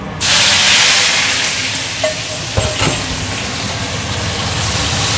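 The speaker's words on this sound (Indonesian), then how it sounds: "Ikan terinya mau tak goreng" Loud, steady sizzle of anchovies frying in hot oil, a constant crackling hiss with a couple of brief clatters partway through.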